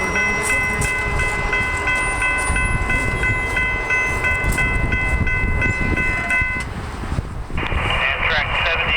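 Amtrak Train 73 led by locomotive 1893 rolls past on the Norfolk Southern Charlotte line at Harrisburg, North Carolina, a loud steady rumble of passing cars with a sustained multi-tone horn chord through most of it, then ringing bells near the end.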